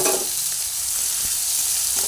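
White cumin seeds frying together with fish in a hot pan, a steady broadband sizzle with a faint clink near the end, close and continuous with no talking.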